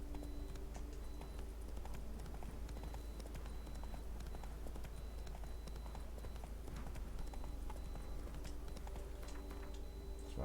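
Roach the horse galloping in The Witcher 3, a continuous rapid clip-clop of hooves with a low steady rumble beneath, running throughout without pause.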